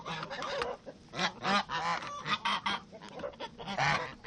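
A flock of geese honks loudly and close, in repeated overlapping squawks of uneven rhythm, with no voices.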